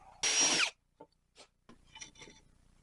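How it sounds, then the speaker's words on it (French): A power drill bores into scrap pallet-wood blocks for a birdhouse: one loud, near, dense burst of about half a second, followed by a few brief scrapes and light knocks of wood, with no talk. "je vais venir fixer ici deux cales que je vais percer"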